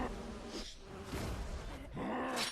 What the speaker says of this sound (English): a really good use of the bees from Entomologist